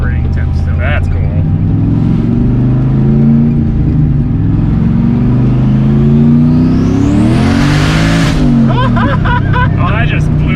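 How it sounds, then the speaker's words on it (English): A 650 whp turbocharged LS sleeper car accelerates hard with its exhaust valve open, a loud close engine roar rising in pitch toward a peak and then dropping, with the tires spinning. "it sounds awesome with the valve open because you can hear the turbo and stuff"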